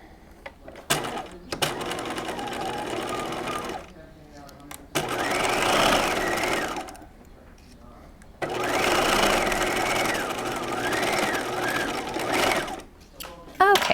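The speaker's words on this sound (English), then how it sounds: "I'm going to sew this center front seam." A sewing machine stitches a centre front seam on a halter top, running in two long steady bursts of whirring with pauses between them, with faint talk in the gaps.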